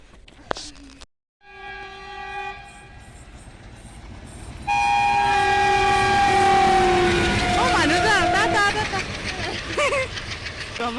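A train horn sounds in long blasts, then grows louder as the train rolls past with rumbling wheels and faint voices underneath.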